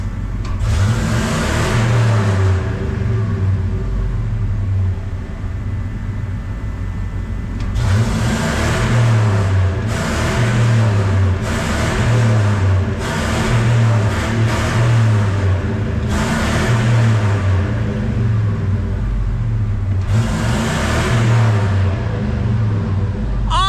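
A 5.4-liter American V8 truck engine, just repaired, revs repeatedly in loud bursts, climbing and dropping between a throaty idle and high revs over more than twenty seconds, close and unaccompanied.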